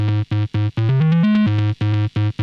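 Synth tone driven through a Dark Matter Little Big Muff distortion pedal, its waveform heavily squashed: loud buzzy harmonic-rich stabs pulse in a steady rhythm, with a short rising pitch run in the middle, no talking.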